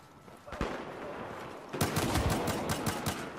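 Shotgun and other weapon fire in the video game Battlefield 4, with a single loud blast followed by a rapid, dense burst of shots in a noisy, busy battle mix.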